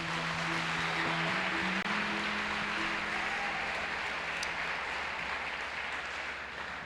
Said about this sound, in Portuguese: Você pode dar um aplauso ao Senhor bem forte?